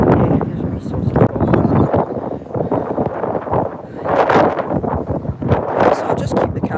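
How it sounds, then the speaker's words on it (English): Strong gusts buffet the microphone on a windy walk along a heritage trail in Scotland, a loud rumbling roar that swells and fades, with a voice speaking over it. "Trying to find an angle with my body to shelter the wind"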